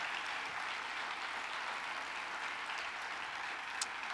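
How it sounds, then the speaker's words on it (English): Sustained audience applause at the University of Texas at Austin State of the University Address, honoring the Faculty Council chair; a steady, dense wash of many hands clapping at moderate distance, continuous and even throughout. "Please, everyone, let's give Faculty Council Chair Brian Evans a round of applause"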